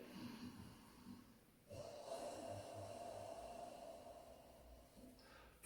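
Deep breaths drawn and pushed through the back of the throat, a soft snorting intake followed by a long, hoarse, breathy exhale, close and quiet, ending in a sudden sharp sound.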